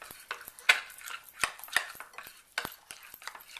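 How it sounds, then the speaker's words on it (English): A spoon stirs melted white chocolate mixed with oil and peppermint extract in a bowl, giving a series of quiet, irregular clinks and scrapes against the side, close and faint. "And I'm going to continue to stir."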